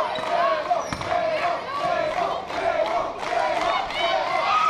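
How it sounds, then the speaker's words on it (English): Loud, excited crowd cheering and shouting at a cage match for a heavyweight wrestling title, with rising yells and thumping impacts from the ring, and an announcer's voice partly heard over the noise. "You hear this crowd. They're just wanting it."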